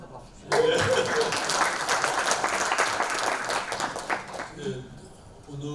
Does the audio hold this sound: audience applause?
yes